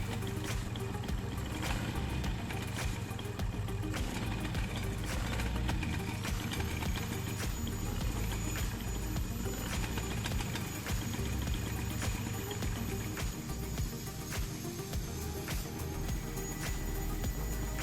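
A Vespa Corsa scooter fitted with a Vespa PX ignition coil idles steadily up close, a continuous low engine rumble with a faint high whine that holds through the whole stretch, with no talking over it.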